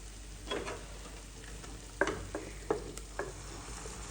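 Cooked beef is tipped into a hot pan and stirred for beef varattiyathu, frying with a steady sizzle under a few sharp clanks and scrapes of the spoon against the pan.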